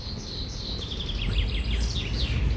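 Birds chirping and twittering in quick, high bursts, a little distant, over a low background rumble.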